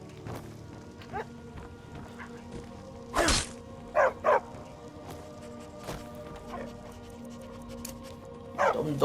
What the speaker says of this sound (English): Dumb dog.